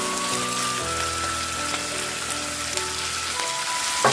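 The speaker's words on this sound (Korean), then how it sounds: "이제 훈제 오리를 다진 마늘과 함께 볶아줍니다." Smoked duck and minced garlic stir-frying in a hot pan, a steady dense sizzle and crackle running throughout at moderate level, close by, with faint clinks of a utensil.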